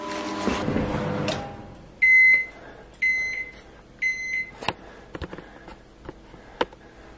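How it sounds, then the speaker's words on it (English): A microwave oven heating a Marks & Spencer steak and mash meal finishes with three evenly spaced electronic beeps, preceded by a low whir and followed by a few clicks and clatters. "I want you to hear the ping live on the camera"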